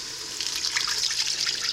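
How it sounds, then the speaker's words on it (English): Several cups of water pour steadily into a cooking pot for chicken and dumplings, a continuous close splashing trickle with no voices. "now I'm gonna add about 6 or 7 cups of water."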